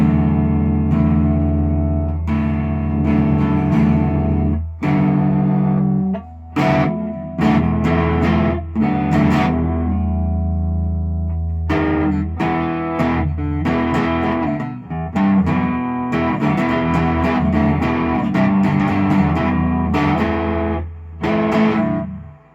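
Distorted electric guitar plays a continuous riff of chords and notes through a Crate amp with reverb, loud and sustained, with no voices.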